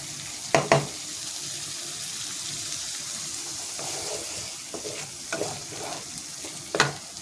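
Spices and green chillies are stirred in a pan over a gas flame, a low, steady sizzle broken by a few sharp spoon scrapes and clacks.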